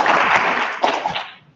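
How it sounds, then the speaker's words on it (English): Applause from a meeting audience, a broad crackling wash of many hands that holds steady, swells briefly, then thins out and fades within a second and a half. "Unexpected applause, always very nice"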